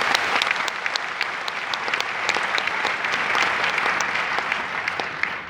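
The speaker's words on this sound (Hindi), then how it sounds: "इसलिए उन पुस्तकों के लेखकों के सम्मान में हम सबको ताली बजानी चाहिए," Audience applause fills an auditorium during a yoga talk, a steady dense patter of clapping from many hands, loud and continuous throughout with no speech over it.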